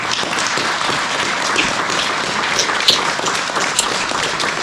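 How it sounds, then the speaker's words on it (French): Steady applause from an audience at a Saint-Barbe ceremony, a continuous even wash of clapping with a few sharper claps standing out, no talk over it. "je pense qu'on peut les applaudir"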